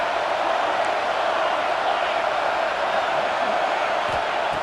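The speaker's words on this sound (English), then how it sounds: "here comes the noise. This crowd is trying to inspire this defense to make a big red zone stop." Stadium crowd roaring steadily in an EA Sports College Football 26 game during a red zone third down, a dense continuous wash of cheering and noise with no break.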